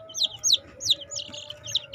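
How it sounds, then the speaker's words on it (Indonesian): Five-day-old chicks peep in quick, high, evenly spaced chirps, about five sharp calls close by over a low steady hum from a brooder setup. "ini anakan ayam di sini memasuki hari kelima ini"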